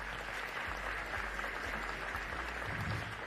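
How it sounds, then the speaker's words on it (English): Steady applause from a crowd at a school board meeting, a dense continuous patter of clapping at moderate volume throughout. "Let's give that a round of applause."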